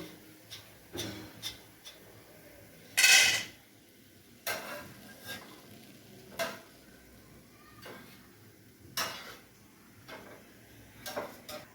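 Fried boondi is lifted from hot oil with a slotted ladle and moved onto a plate, giving a quiet oil sizzle broken by sharp metallic taps and clinks at irregular intervals, one louder clatter early on.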